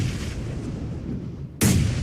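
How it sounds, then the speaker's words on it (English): A grenade goes off at a distance in a PUBG Mobile tournament match, a sudden loud blast that bursts in near the end after a stretch of rumbling background battle noise. "Aaron with a really well-placed grenade at distance"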